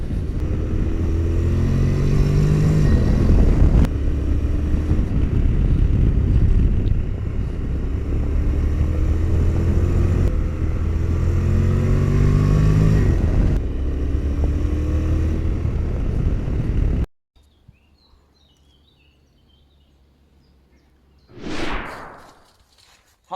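Honda NC750X DCT motorcycle ridden on the road, a steady loud engine drone with wind rush and gear-change swells for about seventeen seconds, then near quiet broken by one brief whoosh of a passing vehicle.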